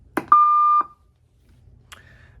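A loud, sustained electronic beep from a TGT Quad-5 radio transmitter with a click before it, then silence and a second, fainter short beep.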